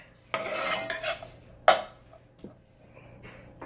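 Spoon scraping and clinking in a pot as onions sauté in oil with garlic, a long stir followed by a sharp metallic knock and softer taps, close by with a faint sizzle underneath and no talk.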